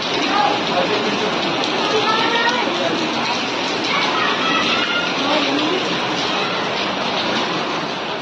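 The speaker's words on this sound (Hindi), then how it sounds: "बहुत तेज बारिश हो रही है" Heavy rain pouring down outdoors: a loud, unbroken, close hiss of falling water that holds steady the whole time, with a voice faintly present beneath it.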